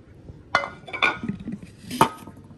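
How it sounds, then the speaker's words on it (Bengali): Kachki fish and ingredients dropped into a wok (kadai), producing a few close clinks and clatters of metal and dishware with soft rustling in between. "আমি একসাথে কড়াইতে ঢেলা দিব।"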